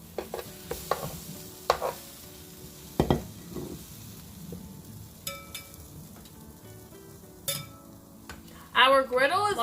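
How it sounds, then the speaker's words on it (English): Slices of brioche French toast frying on a large griddle, a faint sizzle under scattered clinks and taps of utensils, with a short burst of voices near the end. "You'll then proceed to put your bread onto the griddle."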